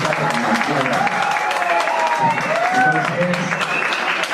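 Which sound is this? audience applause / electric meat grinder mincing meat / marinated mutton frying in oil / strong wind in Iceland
audience applause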